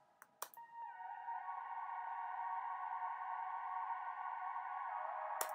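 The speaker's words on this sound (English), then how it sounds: "This is super, like, glidey synth using Galactic from Air Windows." A smooth, sustained saw and sine synth tone glides in pitch under a wash of Airwindows Galactic reverb, preceded by a few sharp clicks at the start.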